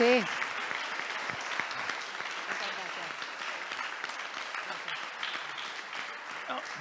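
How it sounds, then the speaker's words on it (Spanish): Audience applause fills a panel discussion on organ donation and transplant journalism, a steady wash of many hands clapping that stays fairly even throughout, opening with a brief voice. "les damos un aplauso"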